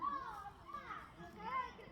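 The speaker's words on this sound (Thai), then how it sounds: "เด็กๆวัย 13 ขวบวันนี้เขาเตะบอลเนาะ" Thirteen-year-old children shouting and playing football on a school sports field, a lively jumble of young voices and calls at a moderate distance with no foreground speaker.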